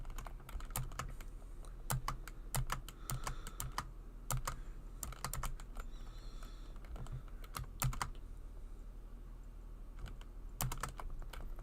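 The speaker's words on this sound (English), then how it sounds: "Hopefully my keyboard clicking isn't too obnoxious." A computer keyboard clatters with irregular bursts of typing, sharp individual key clicks coming in quick clusters separated by short pauses, close to the microphone with no one speaking.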